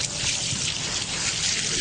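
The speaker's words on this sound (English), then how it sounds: "Ooh, water going." Water is poured steadily over a person being waterboarded in a studio, a continuous splashing trickle and hiss that stays loud and even for the whole moment.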